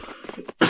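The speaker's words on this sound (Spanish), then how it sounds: "Uy, estoy con un poquito de tos." A single sharp, close cough bursts out at the end, just after faint murmuring, from a streamer playing Knight Online live.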